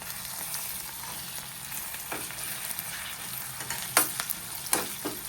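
Bitter gourd fries with tamarind and garlic for kakarakaya karam, a low, steady sizzle near at hand with a few spatula scrapes and taps toward the end, and no talking.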